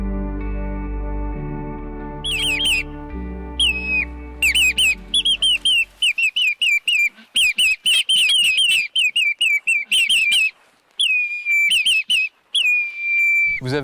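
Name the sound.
people whistling to imitate birds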